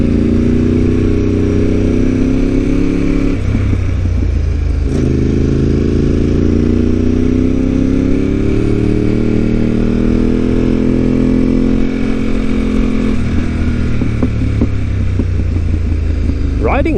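Steady, loud engine drone of a Ducati 748R motorcycle ridden on a Japanese road, with sustained droning tones, shifting revs and wind rush throughout from the rider's position, with a voice talking over it.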